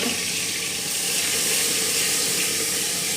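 Tomatoes and green chillies frying in a pan, a steady bright sizzle and hiss that holds at an even level throughout with no pauses.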